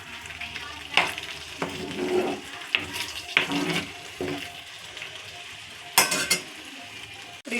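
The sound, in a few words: egg masala curry simmering in pan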